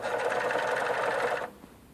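A portable blindstitch sewing machine stitching a double-folded fabric hem runs steadily and close by for about a second and a half, then stops abruptly, leaving quiet room tone.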